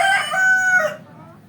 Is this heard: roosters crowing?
yes